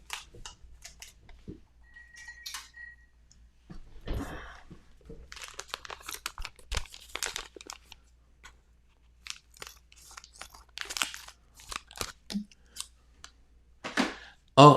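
Scissors snip and crinkle through sealed plastic packaging in short, close bursts of cutting, rustling and crunching, with brief pauses between cuts.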